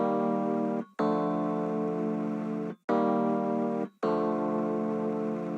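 Layered chords pairing soul chords with Omnisphere main chords, four sustained chords separated by short gaps, rich and full in the mids, steady and moderately loud with no talking.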